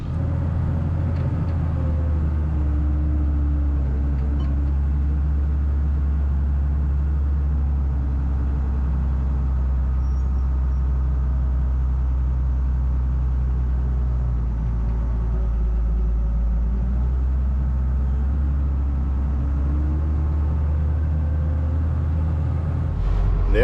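A truck and loader engine rumble low and steady on a farm while old cars are hauled out of a field, a continuous idling drone close by without speech.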